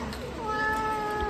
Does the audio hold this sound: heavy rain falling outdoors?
no